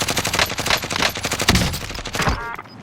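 Rapid gunfire rattles in Call of Duty Warzone, a loud close stream of shots in quick bursts with a few heavier cracks near the end.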